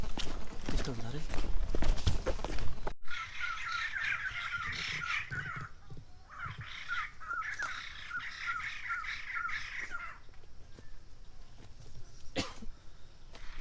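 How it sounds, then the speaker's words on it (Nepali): A bird, likely a crow, calls repeatedly outdoors in a natural setting, with harsh caw-like calls coming in bursts at moderate distance, while people talk over them at times. "के चरा होला यसरी कराउने?"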